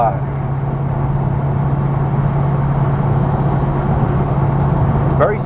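An Ultima RS sports car on the move, its engine a steady, loud, continuous drone with a strong low hum throughout, heard from inside the car without obvious gear changes.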